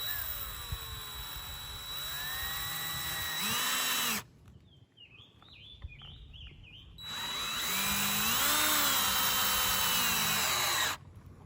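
A power drill drives a screw into a wooden mailbox post, with two long whining bursts of motor, each ramping up and down, separated by a short pause filled with faint clicks and handling sounds; close and loud.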